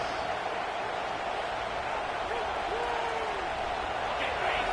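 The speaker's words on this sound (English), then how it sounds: "listen to this crowd coming through" Steady stadium crowd roar fills an American football video game broadcast, a dense continuous wash of cheering that holds level throughout, with faint commentary-like voices blended underneath.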